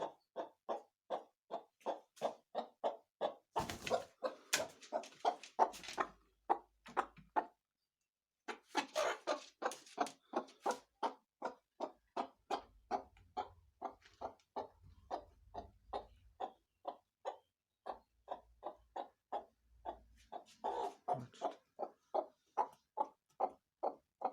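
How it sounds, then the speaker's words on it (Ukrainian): Rapid, rhythmic clucking of a broody hen repeats steadily through the clip with two brief pauses, with occasional louder squawky bursts and low thumps. "Оця курка така полетюча, що вона сюди сміло долітає"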